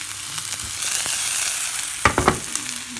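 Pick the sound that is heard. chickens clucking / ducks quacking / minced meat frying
minced meat frying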